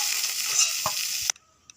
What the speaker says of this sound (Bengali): লাল লাল করে ভাজা হচ্ছে